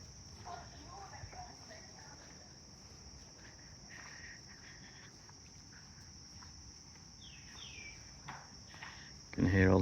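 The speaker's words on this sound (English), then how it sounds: "You can hear all the cicadas in the background and the birds." At a beach resort in Khao Lak, cicadas hold a constant high shrill buzz over faint birdsong and soft nearby movement, ending in a sudden louder thump.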